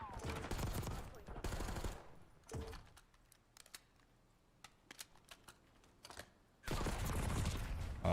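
Rapid video-game gunfire from a Call of Duty match comes in dense loud bursts at the start and end, with scattered single shots and quieter gaps between them.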